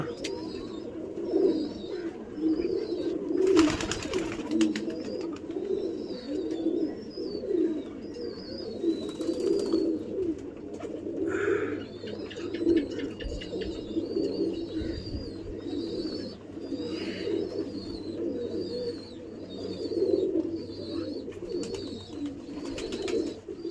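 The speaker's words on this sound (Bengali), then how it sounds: "এই একটা পায়রা বসছে" Pigeons coo steadily in a loft of young squabs settling in, a continuous low murmur of many birds, with brief higher chirps and a few wingflaps or bumps, fairly close throughout.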